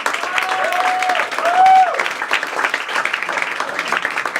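Sustained audience applause in a theatre, thick steady clapping throughout with a brief whistle or shout standing out in the middle and faint voices underneath.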